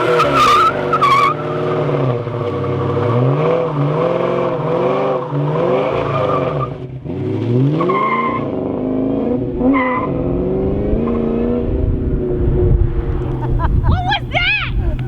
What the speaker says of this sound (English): you gotta give a little burnout to the old wheels to say your goodbyes